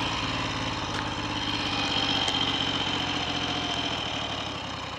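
Triumph Trident T150V motorcycle engine idling steadily nearby with a throbbing, even three-cylinder beat and mechanical clatter, loud and constant throughout.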